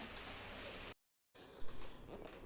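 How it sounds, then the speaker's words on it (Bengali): Light drizzle falls outside as a faint, soft hiss of rain, briefly cut off by a moment of silence before resuming, with no voices. "বাইরের ওয়েদারটা একদম ঝিরিঝিরি বৃষ্টি পড়ছে"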